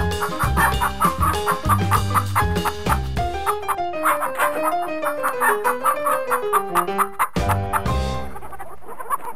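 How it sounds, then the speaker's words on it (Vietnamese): Farm chickens cluck busily and a rooster crows, a loud and continuous run of rhythmic calls close by. "Gà là loài gia cầm được chăn nuôi nhiều ở các nước trên thế giới."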